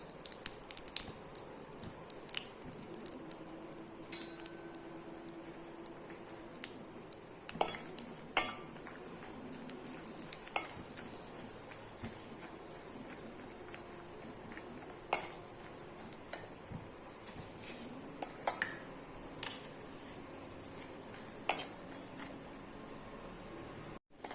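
Spices and a lump of asafoetida being dry-roasted in a pan for Navaratri offerings, heard as a quiet run of scattered clinks and scrapes from a stirring spoon against the pan, close and intermittent, with no talk.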